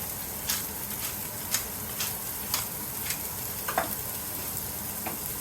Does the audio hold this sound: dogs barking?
no